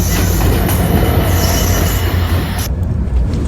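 A passenger train on an overnight journey arrives loud and close, heavy rumbling with squealing wheels and clattering carriages, then cutting off abruptly near the end.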